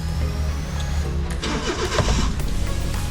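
A mini van engine cranks and catches, then settles into a steady mid-pitched running sound, loud and close, with no talking.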